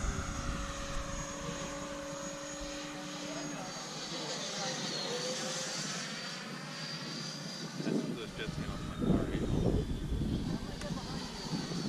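A Freewing MiG-29 Fulcrum RC model jet flies overhead at a hillside field, its steady ducted-fan whine rising and falling as it passes, loud and continuous, while a voice talks over it.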